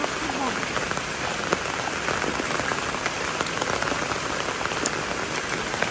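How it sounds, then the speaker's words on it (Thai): Steady rain pours down outdoors, a dense even hiss with scattered drop impacts, continuous and close throughout. "ฝนตกมา"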